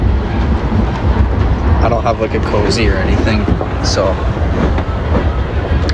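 Interior of a moving GO commuter train, with a continuous loud rumble, rattling and rail clatter beneath a person talking nearby.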